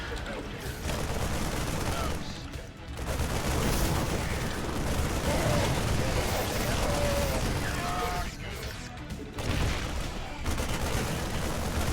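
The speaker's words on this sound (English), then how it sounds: "over here you see guys with guns shooting up everything" Soldiers firing guns in a strategy video game, dense overlapping bursts of gunfire and booms forming a near-continuous loud battle din with brief lulls.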